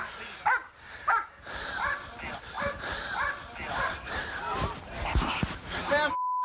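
A police dog at an arrest scene gives a series of sharp barks and whimpers amid shouting voices and scuffling, loud and close.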